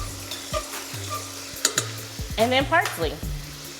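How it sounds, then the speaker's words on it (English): Chopped capers are stirred into a lemon caper sauce for pan-seared sea bass, a close sizzling pan with scraping spoon strokes while a person speaks briefly. "I'm just stirring it all in together."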